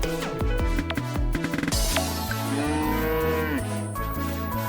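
Cow mooing in the farming video game Story of Seasons, set against a continuous backing melody, with several drawn-out calls heard clearly over the music.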